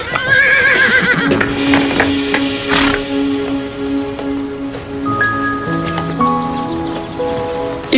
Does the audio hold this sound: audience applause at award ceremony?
no